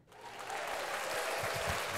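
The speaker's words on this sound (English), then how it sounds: "So applause" Applause on a comedy podcast, fading in quickly and then holding as a steady wash of clapping from a small group, close and moderately loud, with no voices over it.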